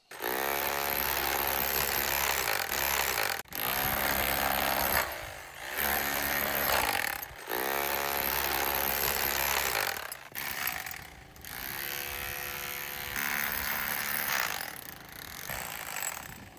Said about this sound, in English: I'm going to be using this power drill with this chisel head